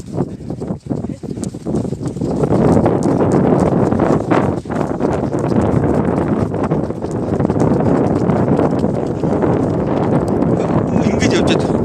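Horse hooves clip-clop steadily on open ground, a close, rhythmic patter of many quick beats under continuous wind rush on the microphone, with a person talking over it throughout.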